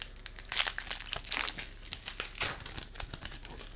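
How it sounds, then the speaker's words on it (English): Foil wrappers of Power Ranger trading card packs crinkle and tear open in quick, close bursts of rustling, with no voices over it. "So I'll open the cards first."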